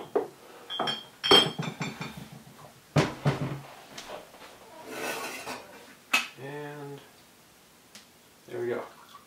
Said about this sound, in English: Get the coffee cup out